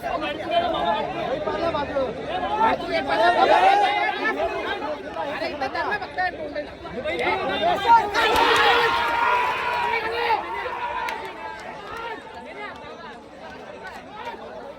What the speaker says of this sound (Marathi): धाग्यावर अशी गर्दी असते, खूप गर्दी आहे.